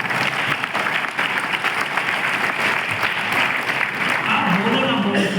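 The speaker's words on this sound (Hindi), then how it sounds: "सबके लिए ताली होनी चाहिए ईमानदारी के साथ" An audience claps in sustained, dense applause at a direct selling seminar, loud and steady throughout, with a speaker's voice heard over it toward the end.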